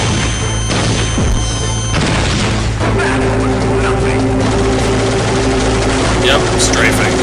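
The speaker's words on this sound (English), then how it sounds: "Fight the Strafer with one of Metal Gear Solid's most powerful weapons, the Stinger missile launcher." A Stinger missile launcher fires at Liquid Snake's Hind D helicopter in Metal Gear Solid: a loud, continuous roar of rotor and engine drone layered with launch blasts and explosion rumble, filling the whole stretch.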